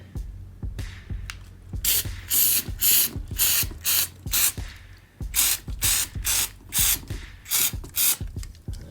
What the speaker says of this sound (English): we're just gonna spray it